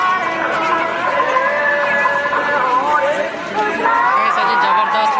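A dense crowd of devotees fills the grounds of the Alasua Baba temple during a yajna in Sambalpur, a loud, steady babble of many overlapping voices close around.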